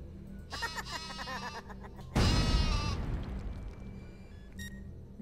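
A sheep bleats in Worms Ultimate Mayhem, a wavering cartoonish cry over game music and electronic beeps, with a loud explosion-like burst following midway.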